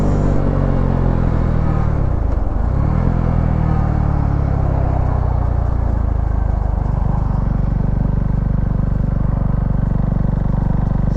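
Engine of a small Husqvarna Svartpilen motorcycle on a ride, loud and close, droning steadily with a brief dip and rise in revs early on, over constant wind rumble and no talk.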